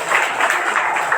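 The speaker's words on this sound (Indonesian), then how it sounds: "Tepuk tangan keur beunghar tah." Applause from the audience at an Isra Mi'raj commemoration religious lecture, steady clapping sustained for about a second without a break and heard alone.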